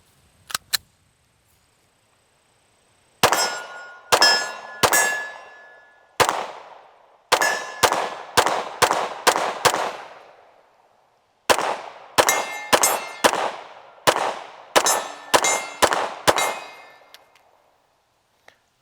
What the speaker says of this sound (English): we'll start off shooting that standard Echelon so you can see the difference side by side